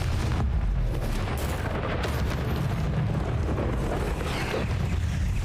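Explosive spells going off in the video game Hogwarts Legacy, heard as dense, continuous booming blasts and rumbling impacts throughout, loud and close with no pause.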